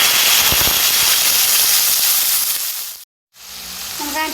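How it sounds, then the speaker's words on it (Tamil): Onion and tomato sauté in a hot pan, a loud continuous crackling sizzle with sharp pops at first, cutting to silence for a moment before a quieter sizzle and stirring clinks return. "வெங்காயம் தக்காளி சேர்த்து வதக்கிங்க"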